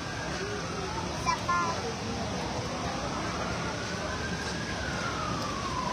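A fire truck siren wails faintly in the distance at a residential house fire on Ma. Clara Street in Tugatog, Malabon, its tone rising slowly beneath a steady background of crowd murmur and street noise.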